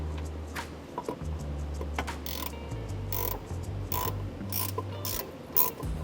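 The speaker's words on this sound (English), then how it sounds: "you have a ratchet style wrench like this" Ratchet wrench clicking while tightening bolts on a Kuat Piston Pro bike rack, a close, steady run of quick metallic pawl clicks in bursts over a low mechanical hum.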